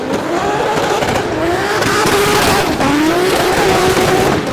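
A drift car slides through a D1NZ Drifting Championship qualifying run at Baypark Stadium in Tauranga, its engine screaming loud and continuous as the rear tyres squeal with rising and falling pitch.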